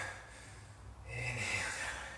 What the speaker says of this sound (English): Breathe in, exhale,